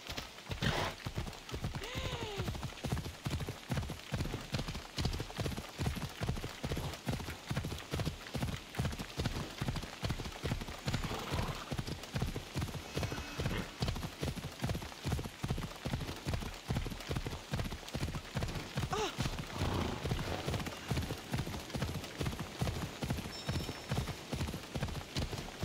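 The horse Phobos gallops in Assassin's Creed Odyssey, steady rapid hoofbeats thudding close and loud in an even rhythm, with a brief whinny near the start.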